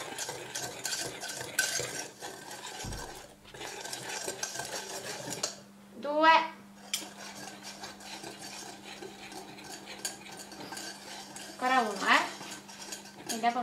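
A spoon stirs a cake cream mixture in a bowl, with repeated scraping and clinking against the bowl's sides. The sound comes close up in bursts, broken by brief pauses and a few sharper knocks.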